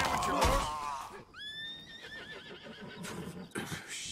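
A horse whinnies in Red Dead Redemption 2, a clear rising-and-falling neigh heard in the middle after a voice, with footsteps and game ambience around it and more speech toward the end.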